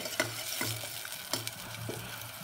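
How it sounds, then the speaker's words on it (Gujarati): Turmeric, coriander-cumin powder, salt and tomato frying in oil for a Gujarati gavar dhokli curry, a steady close sizzle broken by several scraping stirs of a spoon through the pan, with no talking. "મસાલાને શેકી લઈશું આપણે."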